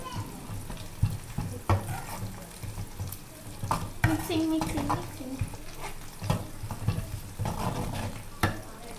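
Green chillies are stirred into sizzling oil with golden-browned onion in a pan for goat brain masala fry, with intermittent spoon scrapes and clinks over a soft, steady frying hiss.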